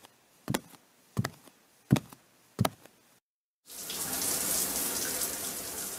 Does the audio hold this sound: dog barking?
no